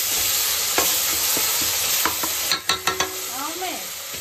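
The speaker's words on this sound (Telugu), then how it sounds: "అల్లం వెల్లిగడ్డ పేస్ట్ వేసి ఒక్కసారి కలబెట్టేసి" Ginger garlic paste being stirred in a hot frying pan, a steady sizzle with several sharp scraping strokes of the spoon near the end, close and fairly loud with no talk.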